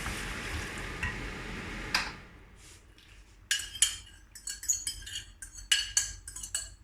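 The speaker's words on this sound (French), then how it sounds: "On remet les lentilles à l'intérieur." Lentils tipped back into a pan with garlic, a soft sizzle fading out, then a run of sharp utensil clinks and scrapes against the pan as the mix is stirred, close and fairly quiet.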